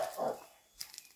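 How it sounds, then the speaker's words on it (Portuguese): A dog barks once, fairly faint, outdoors at a rural eco-friendly house site in the woods, followed by a few soft, scattered sounds. "esse cachorro está atrapalhando a nossa filmagem"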